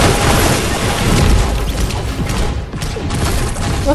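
Loud, dense gunfire and crashing impacts in the video game Fortnite, a continuous barrage of sharp bangs and mechanical clatter without pause.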